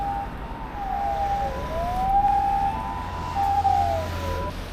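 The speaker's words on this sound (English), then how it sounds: "And now there's sirens." Emergency vehicle siren at night in Hakuba, Japan, a wailing rising-and-falling tone heard at moderate distance over low street ambience, continuous throughout.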